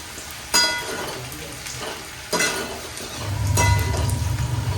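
Ginger-garlic paste ground with cumin and green chilli hits a hot pan, giving bursts of sizzling frying with spoon scrapes and clinks, and the sizzle swells louder toward the end.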